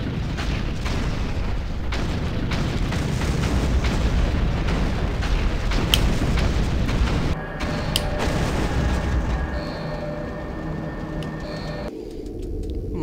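Dense combat noise from the video game Doom 3: rapid gunfire and heavy booming explosions, continuous and loud, easing into a quieter electronic hum near the end.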